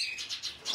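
Fledgling Amidamia pet bird chicks give high, thin chirps in a quick repeated series, close by and fairly soft, with no talking.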